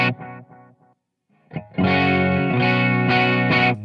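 A 1978 Greco electric guitar with Fishman Fluence PAF-style humbuckers played clean with the pedal bypassed: a few plucked notes, a brief pause, then a loud sustained strummed chord ringing with repeated accents.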